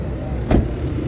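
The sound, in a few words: car door being shut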